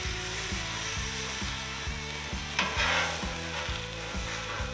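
Eggs hit a hot griddle beside hash browns, green pepper and onions, giving a loud steady sizzle with a rhythmic scraping of a spatula stirring, no talking.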